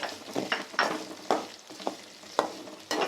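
Shallots sauté in sesame oil with salt for a pepper gravy, stirred with repeated scraping strokes over a soft continuous sizzle, close up and without any talking.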